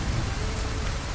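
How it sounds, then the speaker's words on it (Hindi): Torrential night-time rain used as a sound effect in an audio comic: a steady, dense wash of rainfall at an even, moderate level throughout, with no voices. "रात को मूसलाधार बारिश हो रही है, उस मकान की छतें टपकती है"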